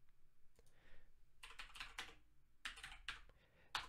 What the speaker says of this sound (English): In fact, I'll type it in.